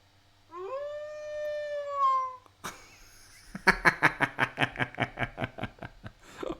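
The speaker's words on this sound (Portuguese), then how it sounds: "Alexa, uivo de saudação." An Alexa smart speaker plays a wolf howl: a long rising, wavering howl, then a burst of rapid rhythmic yips and barks. It is loud and close, and no one talks over it.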